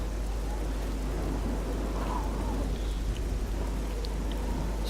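Steady heavy rainfall with a low rumble of thunder in the video game The Elder Scrolls Oblivion, a constant dense wash of rain filling the scene without speech.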